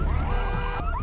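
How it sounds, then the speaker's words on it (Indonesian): A car alarm wails continuously in a film scene, a loud siren-like tone sweeping up and down for the whole moment without speech. "Tapi bodohnya si Madison ini malah main selonong aja buka pintu mobil, yang membuat alarm di mobil itu berbunyi"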